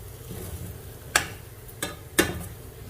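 Ghee is stirred into vegetable upma in a pan: three distinct clinks of a spoon against the pan stand out over a quiet, steady low hum, with no voices.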